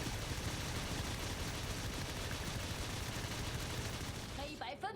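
Rapid shots from the hero Meng Ya in the mobile game Honor of Kings, a dense continuous crackle of gunfire filling nearly the whole stretch at steady loudness, ending with a brief chirping flourish.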